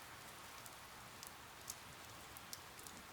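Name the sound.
rain ambience in a rainforest soundscape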